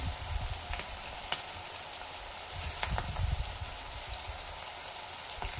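Curry leaves drop into hot oil in a pan while cooking a bottle gourd curry, giving a steady crackling sizzle with a few sharper pops and spatters, fairly close and continuous with no talk.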